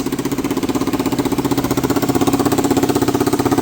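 A Suzuki DRZ400 motorcycle with a rusted-out exhaust, long left sitting, runs at a steady idle: a loud, close, rapid rhythmic putter that holds the same pace throughout with no one talking over it.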